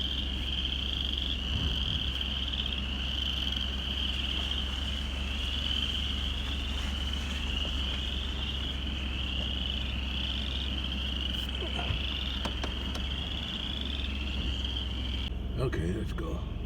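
Spring frogs chirp in a steady, dense chorus around a parked truck on a pasture road, a continuous high trill running the whole time under a low idling hum, with a few brief nearby knocks near the end.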